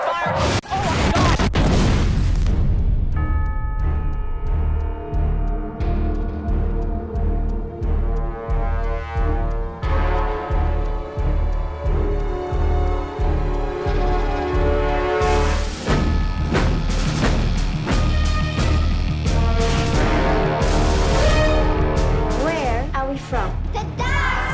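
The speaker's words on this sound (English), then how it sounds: "It's opening fire!" Explosions and booms as UFOs open fire on New York in a film trailer, loud continuous impacts and blasts layered over dramatic music, with voices speaking at points.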